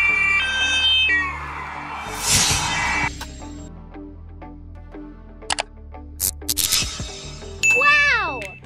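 Police patrol car siren in a children's vehicle cartoon, a short wailing sweep near the end that follows several bright chimes and dings.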